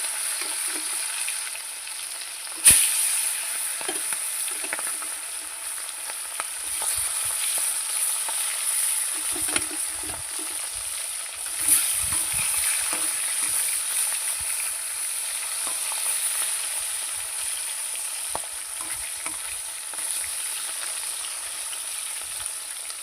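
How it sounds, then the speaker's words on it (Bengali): Tilapia fry in hot oil in a wok with a steady, close sizzling hiss and scattered crackles and pops. A couple of sharper spits stand out, and no one speaks. "মাছগুলো এখন ভেজে নেব"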